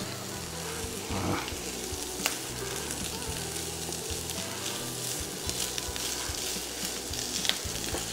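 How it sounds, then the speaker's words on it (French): Beef for boeuf miroton sears over fairly high heat in a hot pan, giving a dense continuous sizzle and crackle with occasional stirring clicks, close and steady. "Là, on va rajouter la viande par-dessus. On va faire chauffer tout ça,"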